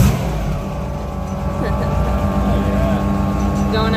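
Off-road cars, including a Baja-style Miata, rev and pull away at an outdoor off-road car run, a loud rumbling mix of engines close by with excited voices talking over them.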